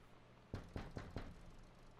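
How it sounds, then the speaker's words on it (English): Four quick, evenly spaced knocks on a door in The Cat Lady video game, firm and fairly close, over a low ambient hum with no talk. "Someone's at the door."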